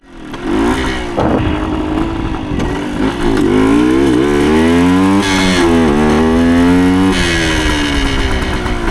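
A 1975 Suzuki TS125 Duster motorcycle rides along a road, its small single engine buzzing loud and close as the revs climb, dip and climb again through gear changes.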